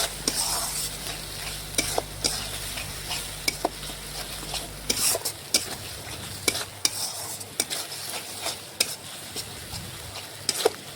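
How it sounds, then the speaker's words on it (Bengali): Spice paste for a mutton and papaya curry sautéed in a pan over a wood fire, a steady sizzle under repeated sharp scraping stirs, with a low rumble fading midway and no talking. "এ দেখুন ভালোভাবে মিশিয়ে মশলাটা একটু কষিয়ে নেব।"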